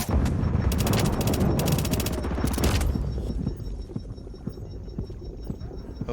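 Rapid bursts of automatic gunfire rattle loudly for about three seconds in The Division, then give way to scattered, fainter single shots and low battlefield noise.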